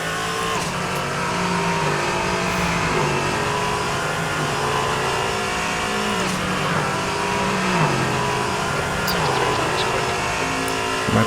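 A race car engine in a multiclass LMP3 and GT2 sim racing endurance event drones steadily and loud throughout, rising and falling with gear shifts and revs, with other cars audible around it.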